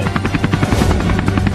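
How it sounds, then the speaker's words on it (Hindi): A helicopter passes overhead, its loud, rapid rotor chop pulsing steadily and close throughout the short stretch. "अरे वहाँ तो एक हेलीकॉप्टर भी उड़ रहा है।"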